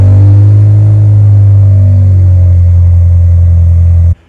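A Toyota Tacoma Trailhunter with a dumped exhaust revs loud and close, a deep throaty rumble that holds and slowly eases before cutting off abruptly.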